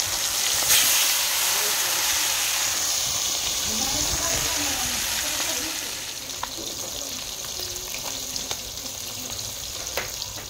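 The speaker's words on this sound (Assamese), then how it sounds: "মাছখিনি ফ্ৰাই কৰি হৈ গ'ল" Fish frying in hot oil for an Assamese-style dish gives a steady, close sizzling hiss throughout, slightly quieter in the second half, with a few faint crackles and no clear speech.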